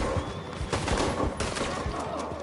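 Rapid video game gunfire, a dense crackling fusillade of overlapping shots at moderate loudness, continuing throughout.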